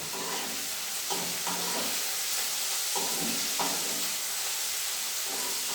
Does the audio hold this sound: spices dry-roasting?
yes